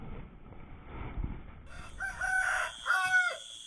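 A rooster crows at morning, a loud, clear, drawn-out call rising over quiet ambient background after a short lull, with no talking.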